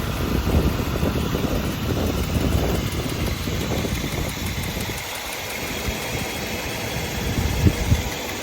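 A 1984 Mercedes 500SEC with an M117 engine, fresh distributor cap, wires and spark plugs, idles in a steady, even rumble, close and continuous with no one talking.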